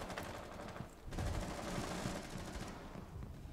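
Rapid automatic gunfire in Rainbow Six Siege on PS4, dense continuous bursts of shots filling the whole stretch without talk.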